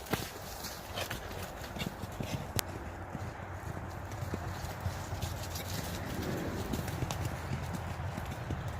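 A horse's hooves thud and clop rhythmically on arena dirt during a barrel racing run, with a steady gait picking up slightly toward the end.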